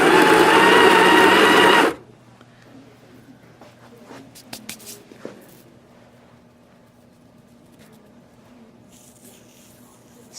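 A Rancilio Rocky or Breville Smart Grinder coffee grinder grinds beans loudly up close for about two seconds, then stops abruptly, leaving faint clicks and handling noises in a quiet room.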